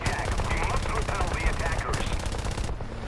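Turret machine guns on a Stirling Mk I bomber fire in War Thunder, loud dense rapid bursts rattling continuously with brief gaps.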